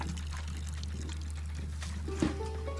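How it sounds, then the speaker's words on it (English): Water pouring onto a freshly planted seed in the cozy flower game Botany Manor, a steady soft trickle over a constant low hum, with a small splash near the end. "Water the seed."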